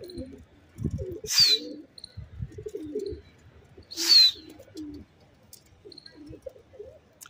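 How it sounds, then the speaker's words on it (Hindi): A pigeon coos in soft, low, repeated phrases at close range, with two louder bright bird calls breaking through and faint chirping in the background. "भाई कबूतर बोला"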